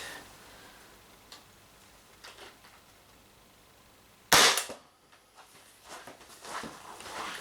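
A single sharp, loud shot from a power-tuned Umarex Impax P68 air pistol cracks out over faint background noise, followed by a quiet settling tail.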